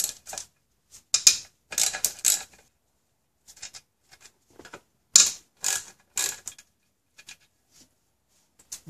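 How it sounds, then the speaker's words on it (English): A hand ratchet loosens nuts on the upper air intake chamber of a Toyota 5VZ-FE V6 engine, giving close, crisp bursts of rapid clicking separated by short pauses. "Start by removing the nuts."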